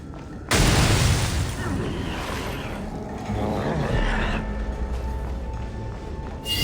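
Bombs exploding in Genshin Impact open with a sudden loud blast that swells into a sustained, roaring rumble. The rumble carries on with a second surge partway through before ending in another sharp burst.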